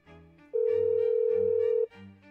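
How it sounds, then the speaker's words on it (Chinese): A telephone line tone sounds after a call is hung up: one steady, loud electronic tone lasting just over a second, with a narrating voice before and after it. "电话一阵忙音，"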